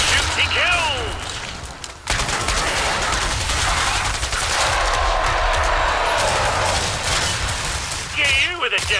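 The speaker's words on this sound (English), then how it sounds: "He shoots, he kills." Dense gunfire in Killing Floor 2 rattles in fast continuous bursts, loud and close, with game effects and a voice speaking over the shooting.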